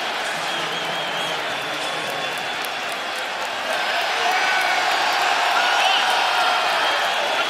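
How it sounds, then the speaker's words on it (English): A basketball arena crowd at the 2019 NBA Finals Game 5 between the Warriors and Raptors applauds and cheers as an injured player leaves, a dense steady roar that swells louder midway, with no talk on top. "They don't like to hear the fans cheering."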